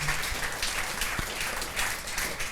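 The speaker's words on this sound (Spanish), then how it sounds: "yo quiero darle que usted le dé un gran, maravilloso y espectacular aplauso al Señor" A church congregation applauds during a service, a continuous wash of many hands clapping at moderate volume, slightly distant and steady for the whole stretch with no speech over it.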